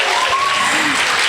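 A crowd claps at a vocal studio event, brief dense applause with a voice speaking over it.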